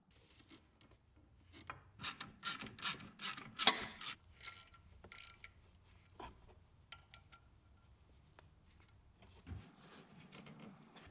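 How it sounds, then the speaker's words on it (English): A ratchet wrench clicks in quick bursts while a crank lock tool holds the crankshaft and the sprocket bolt is tightened on a Mitsubishi Evo 6 4G63 engine. The clicks are close and moderate, with quieter rattles in between. "Using the crank lock tool, I can now tighten the crankshaft sprocket bolt to precisely 118 Newton meters without the crankshaft turning"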